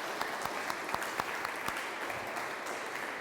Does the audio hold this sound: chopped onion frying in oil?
no